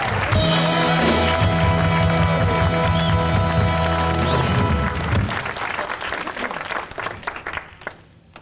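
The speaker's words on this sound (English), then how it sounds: "How about a nice round of applause for him?" Audience applause at a live soul concert at the Bradley House, at first mixed with the final sustained music notes, then continuing as loose clapping that thins out and fades.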